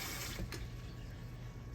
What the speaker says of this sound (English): And we're going to put some water in here, y'all.